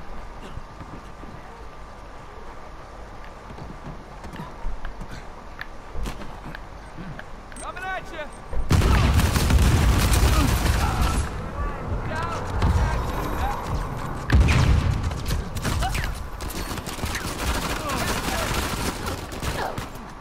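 Gunfire in a firefight from the video game Uncharted 4 sounds as dense, continuous bursts of shots and impacts, loud and close for the second half. The first half holds quieter ambience with scattered sounds, and voices talk over parts of it.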